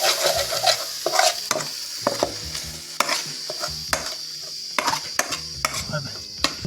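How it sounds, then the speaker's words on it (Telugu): Masala and tomatoes are stirred in a pan over a low flame for a mango and crab curry, a soft continuous sizzle broken by repeated spoon scrapes and clicks against the pan, close and without speech. "ఈ మసాలా మొత్తం బాగా కలుపుకుంటూ టమాటాను లో ఫ్లేమ్లో పెట్టుకుంటూ"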